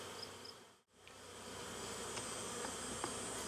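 Honeybees hum steadily around an open backyard hive in Swanzey, New Hampshire, a constant close buzzing drone with one brief dip in loudness, no voices.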